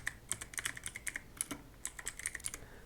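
Fingers type on a computer keyboard in a quick burst of light, crisp key clicks, with a short pause midway and then more keystrokes. The typing is close and moderately quiet, with no talking.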